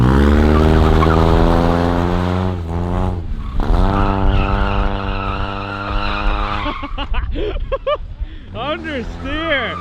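A 1.9L BMW Z3 drifting on a winter surface, its tires squealing in long sustained howls, then sliding into shorter wavering skids as the engine note rises and falls, loud and close.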